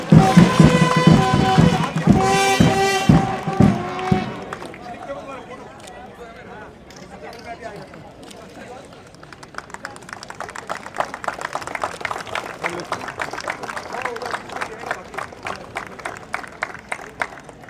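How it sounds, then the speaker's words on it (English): A crowd applauds the chief guest at a Harris Shield cricket tournament, with dense steady clapping building in the second half after a loud music burst at the start, a voice speaking over it. "Please keep the claps going."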